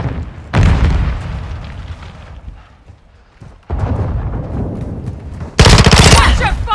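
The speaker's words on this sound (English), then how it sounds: "Stun grenade out!" Video game firefight with a stun grenade going off amid gunfire: loud bursts of shooting and booms that start and stop abruptly, a quieter lull in the middle, then a sharp bright blast near the end, with a voice briefly under the noise.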